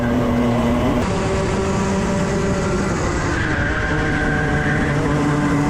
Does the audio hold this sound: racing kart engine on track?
yes